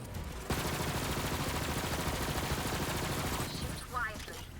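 Rapid gunfire from a Borderlands 3 video game session, a dense sustained burst for about four seconds with a brief lull, followed by a short electronic whine as the shooting stops.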